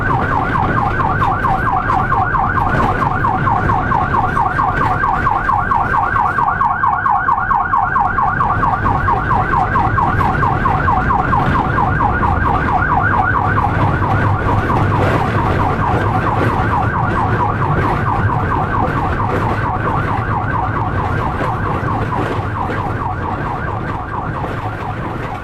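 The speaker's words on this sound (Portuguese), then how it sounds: "o cinegrafista Luciano Peroni acompanhou uma saída de ambulância do SAMU para atender uma chamada" A SAMU ambulance heading out to a call sounds its siren in a loud, continuous, rapidly warbling wail. The siren is close and steady throughout, over road and engine noise, with no talking.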